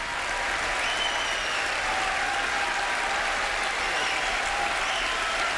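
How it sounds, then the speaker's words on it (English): Vigorous, sustained applause from an excited crowd of Democrats at the 1993 State of the Union address, a dense continuous roar of clapping that fills the hall without pause. "If you think this applause is quite vigorous, it is."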